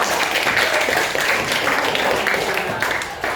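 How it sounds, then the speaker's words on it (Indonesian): Schoolchildren in a classroom clap their hands together in a steady, dense burst of applause that holds at an even level throughout, with no one speaking over it. "tepuk tangan semuanya"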